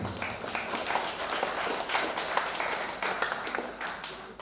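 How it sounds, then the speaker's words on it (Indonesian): Applause at an elementary school graduation ceremony, SDN Gunungsari 02, a fairly quiet, continuous spread of many hands clapping that holds steady throughout with no speech over it. "Tepuk tangan"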